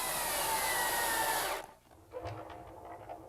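A power driver whirs steadily for about a second and a half while screws attach casters to a wooden miter bench, then stops abruptly, leaving quiet scattered clunks and handling noises.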